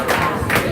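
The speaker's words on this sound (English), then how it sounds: "clap for yourself." Students in a classroom clap for themselves, a short burst of crowd applause filling under a second, fairly loud and dense.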